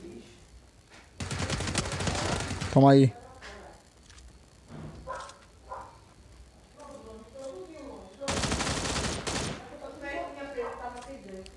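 Loud bursts of rapid gunfire in the mobile game PUBG erupt in two long volleys with a sharp single shot between, while someone talks excitedly over the action.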